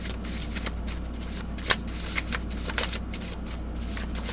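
Tarot cards shuffled continuously by hand in a quiet room, a steady soft riffling and flicking with occasional sharper snaps, close up and without talk.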